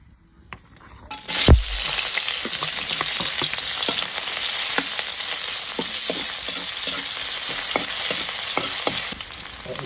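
Tilapia sizzling in hot oil after a sharp drop into the pan, a steady crackling fry with scattered pops, close and continuous.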